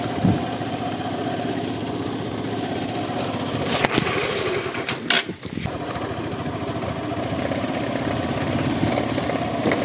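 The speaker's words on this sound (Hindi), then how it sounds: "तो थोड़ा बलुई मिट्टी है इस रोड में, इसकी वजह से बाइक का पहिया फिसल रहा है थोड़ा" A motorcycle engine drones steadily at close range while the bike rides along a freshly cut, sandy unpaved dirt road in rural Uttarakhand, with brief bumps and rattles partway through.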